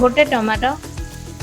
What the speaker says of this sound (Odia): ଏବେ ଏହାକୁ ଭଲ ଭାବେ ମିକ୍ସ କରି ଫ୍ରାଏ କରିବା